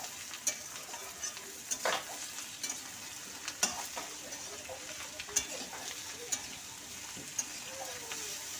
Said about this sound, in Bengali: দিয়ে 3 থেকে 4 মিনিট কিন্তু ভেজে নেব।